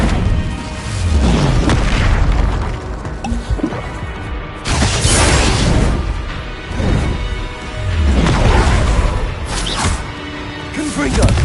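Bombarda and Incendio spells blast repeatedly in Hogwarts Legacy, a series of loud, close booming explosions with whooshing flares, arriving every few seconds under a voice calling out spells.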